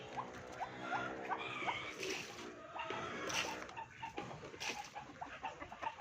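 Chickens cluck and squawk in repeated short bursts around a farm, fairly faint and close, with a voice talking intermittently among them.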